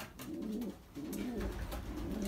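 Belgian racing pigeons coo inside a loft, repeated low throaty burbling calls in overlapping bursts, close and moderately loud with a rustling background.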